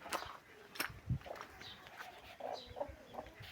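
A backyard hen clucks softly among her growing chicks in a few short, low bursts. Faint chirps and scattered farmyard noises sound around her, and the whole scene is quiet and close.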